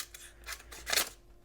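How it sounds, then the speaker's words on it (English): A carbon steel knife with a toothy edge slices through a sheet of paper, making a few quick, close, raspy swishes that end in one louder tearing cut. "You can see it's not slicing super cleanly through the paper."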